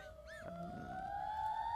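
A witch boggart in a Pottermore game wails like a siren, a rising, sustained electronic howl that swells steadily louder, with faint echoing layers beneath.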